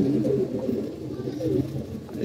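Pigeons coo in a loft, low throaty rolling calls overlapping continuously at close range, fairly quiet and steady.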